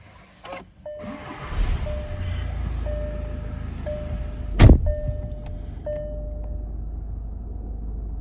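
A 2015 Volkswagen Golf with automatic gearbox starts up: the cabin chime dings repeatedly, then the engine catches with a sharp thump and settles into a low, steady idle, heard from inside the car.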